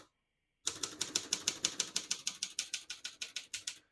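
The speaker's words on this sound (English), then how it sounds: "I'll type a sentence on this next line." Rapid, steady keystrokes on a 1971 Consul 231.3 vintage portable typewriter, about sixteen crisp clacks in a regular rhythm that begin after a short silence, close and clear with no talking.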